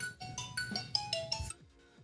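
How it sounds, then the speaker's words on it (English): A phone ringtone plays a short bright electronic melody of about six quick notes, close and clear, then cuts off into quiet. "goofy ass ringtone"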